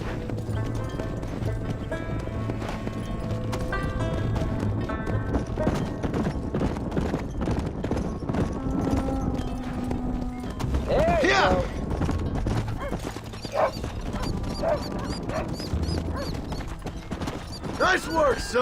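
Horses in the Western game Red Dead Redemption clip-clop along with steady hoofbeats under game dialogue, with a neigh and rattling tack partway through.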